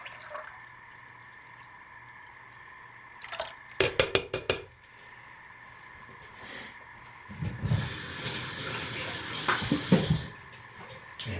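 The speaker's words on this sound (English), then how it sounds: "So very carefully pour this very hot lye into here." Hot lye water is poured into a soap mixture, a hissing, splashy trickle that builds into a steady liquid rush, with brief clinks of a container beforehand and no talking.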